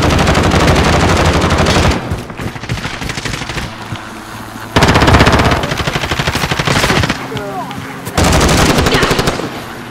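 Automatic gunfire from Call of Duty Modern Warfare, loud bursts of rapid shots in several volleys separated by brief lulls, with a player's voice talking over parts of the action.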